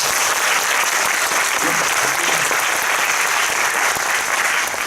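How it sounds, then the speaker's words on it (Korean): Audience applause for director Yoon Jong-bin at a post-screening talk for the film The Spy Gone North in a CGV cinema, sustained dense clapping filling the hall steadily throughout. "윤종빈 감독님에게 큰 박수 부탁드리겠습니다"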